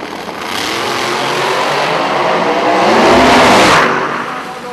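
A drag race car makes a full pass at the No Mercy 8 drag racing event in 2017, a loud sustained engine roar that swells to a peak and then fades as it moves away.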